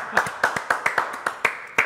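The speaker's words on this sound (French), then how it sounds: "On l'applaudit avant la chanson." A studio audience on a French show claps in a slow, even rhythm, about ten distinct loud claps in two seconds, close and in unison.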